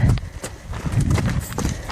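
Hoofbeats of a newly started horse darting around during lariat groundwork, quick heavy thuds on soft ground in an uneven running rhythm, close and loud, with rustling between strikes.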